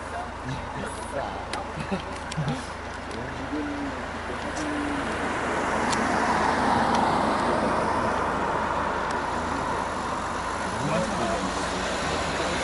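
Night traffic on a three-lane main road with a 70–80 km/h limit in Gumi, near a police drunk-driving checkpoint, forms a steady broadband roar that swells in the middle, with faint murmuring voices in the background.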